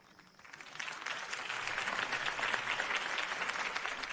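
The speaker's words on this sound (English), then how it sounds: "could have heard that applause" Video game crowd applause after a city political campaign speech swells in and holds steady, dense clapping filling the space without any voices on top.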